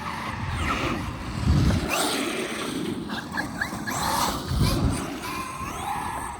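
A Traxxas XRT RC car skids to quick stops, tires scuffing and squealing over the whir of its motor, loud and close, with a couple of sharp braking bursts.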